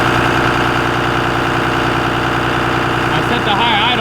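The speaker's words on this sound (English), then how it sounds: "You hear that high idle?" A Cummins diesel truck engine holds a high idle: a loud, continuous mechanical drone with a throbbing low pulse that stays steady, while a voice briefly comes in near the end.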